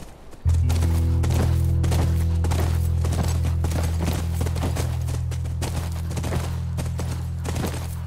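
Horse hooves clip-clop in The Last of Us near a ranch, a steady series of close rhythmic hoof thuds over a low rumbling drone, with no talk.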